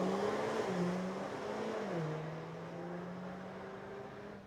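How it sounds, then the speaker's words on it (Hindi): A vehicle passes on a road with a steady engine hum whose pitch rises and falls, continuous and fairly loud throughout, heard from a Triumph Speed 400 motorcycle outing, with no talk. "क्या ज़बरदस्त गाड़ी जा रही है"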